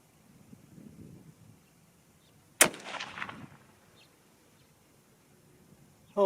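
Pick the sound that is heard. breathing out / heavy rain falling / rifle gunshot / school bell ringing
rifle gunshot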